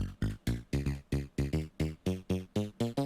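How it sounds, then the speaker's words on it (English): A snappy FM synth bass with the release turned down plays a quick, evenly spaced run of about a dozen short, clipped notes, each one cut off cleanly and heard on its own. "I'm also going to turn down the release on this sound,"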